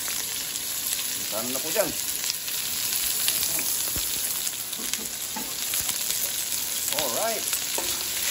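Ginger, chili, garlic and shallots sizzle steadily in hot oil for a native chicken dish, a loud continuous frying hiss with occasional stirring scrapes and brief talking over it.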